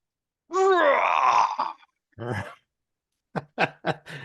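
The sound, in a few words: voice imitating a long lion's roar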